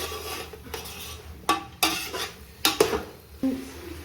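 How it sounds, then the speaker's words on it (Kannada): A spoon scrapes and clanks against a cooking pot while mushroom masala is stirred, several distinct metallic knocks spaced irregularly over soft background noise, no talking. "ಚೆನ್ನಾಗಿ ಮಿಕ್ಸ್ ಮಾಡ್ಕೊಬೇಕು. ಯಾವ ರೀತಿ ಮಿಕ್ಸಪ್ ಆಗ್ತಾ ಇದೆ ಮಶ್ರೂಮ್ ಮಸಾಲೆ ಜೊತೆಗೆ ಅಂತ"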